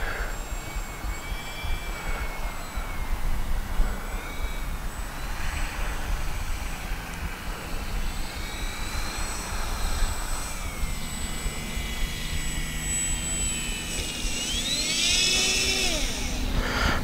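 Electric motor of an Avios Albatross V2 RC flying boat in flight, a steady whine with some Doppler-like pitch sweeps near the end, heard over continuous outdoor wind and background rumble.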